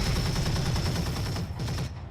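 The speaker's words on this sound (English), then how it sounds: "I'm just gonna fire my machine guns here too." Sustained machine-gun fire from a mech in the Roguetech video game, a dense rapid rattle of shots running steadily for about two seconds, loud and close, with no talking.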